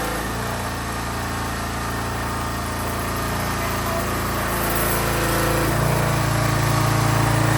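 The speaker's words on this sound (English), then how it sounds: "Got the pressure washer going for Vita." A small pressure washer engine runs steadily nearby, a loud continuous buzzing drone that swells slightly toward the end, with no talking over it.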